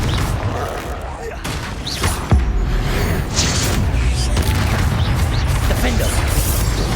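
Confringo blasting spells in Hogwarts Legacy combat, dense booms and crashing impacts over a continuous roar of battle noise, with voices shouting amid the chaos.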